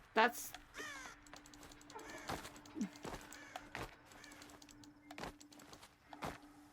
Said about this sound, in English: very loud actual bird